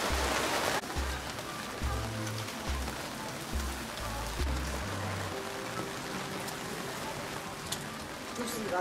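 Heavy rain pours over Burano island in the Venetian lagoon, a steady dense hiss of drops drumming on surfaces throughout, with a low rhythmic pulsing beneath and faint voices in the background.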